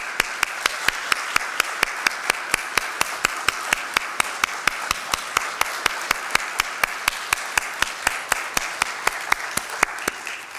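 A church congregation at a Sunday service claps steadily in a strong, even rhythm of about four claps per second, loud and close, continuing throughout without pause or voices.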